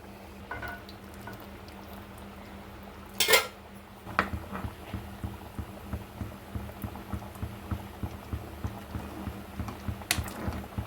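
A lid clatters onto a cooking pan of cashew, potato and egg curry: a sharp metallic clank near 3.3 seconds, followed by faint, steady simmering ticks.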